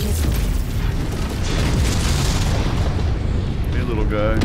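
Heavy, rumbling missile explosions in the MechWarrior mech combat game, a continuous loud booming blast wash with sustained low roar, while a voice speaks over the din.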